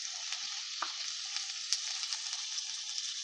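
Carrot pieces, potato pieces and sweet corn kernels fry for pulao with a soft, steady sizzle, and a few faint clicks and scrapes come through now and then.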